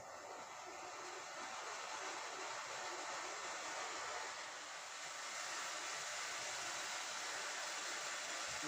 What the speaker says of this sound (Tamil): புகையில் இந்த ஸ்டீம் இன்னும் நல்லா வருது பாருங்கள்